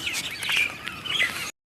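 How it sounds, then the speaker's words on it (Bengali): Several small birds perched in a village tree chirp and twitter busily together nearby in the afternoon, a steady overlapping chatter of high calls. "বিকালবেলায় শুধু পাখিগুলো কিচির মুচির করছে এই গাছটায় গাদা পাখি বসে আছে"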